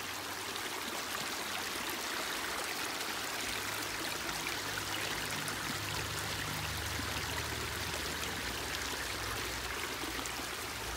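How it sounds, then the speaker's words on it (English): Water trickles and pours steadily through a Sawyer Micro Squeeze filter screwed onto a squeezed water bottle, a close, continuous rushing flow with no talk. "this is how easy it is to filter water with a water bottle."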